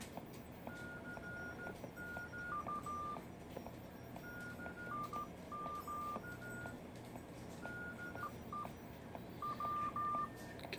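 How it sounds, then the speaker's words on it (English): Elecraft K4 amateur radio transceiver giving short electronic beep tones as its RIT function is toggled on and off, several brief paired beeps spaced across the stretch over a faint background hiss. "I'm going to do a short press just so you can hear the RIT being turned on and off"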